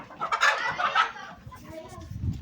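Roosters being let out in a rainy farmyard cluck in short bursts, fairly close, with rustling and background noise and a murmur of voices.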